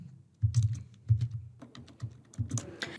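Keys on a computer keyboard tap out a short message, a handful of close, soft clicks in irregular clusters over a quiet room, with no talk.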